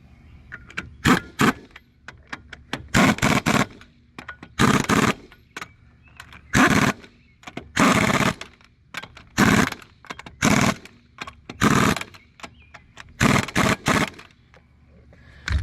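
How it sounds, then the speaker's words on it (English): An impact gun zips wheel lug nuts tight during a cheap DIY brake job, a dozen or so loud buzzing bursts of about half a second each, separated by short pauses and softer clanks of tools. "When you get enough experience with the impact gun, you kind of know when it's tight"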